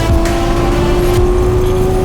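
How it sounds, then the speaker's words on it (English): A Corvette C6 ZR1 with a fully built engine, a 2650 Kong supercharger blower and weld drag pack runs loud and close, a steady powerful drone with a sustained whine across two seconds and no talking. "This is my C6 ZR1 that we just did a fully built motor on."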